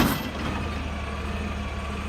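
A garbage truck with a hydraulic arm, its diesel engine rumbling steadily at close range, with a brief hiss at the very start.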